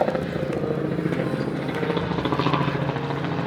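A helicopter flies overhead at Seattle Center, a steady rumbling drone with a fast rhythmic chop that holds at fairly even loudness throughout, with no clear talk over it.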